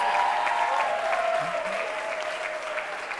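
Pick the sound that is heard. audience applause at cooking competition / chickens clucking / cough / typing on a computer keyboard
audience applause at cooking competition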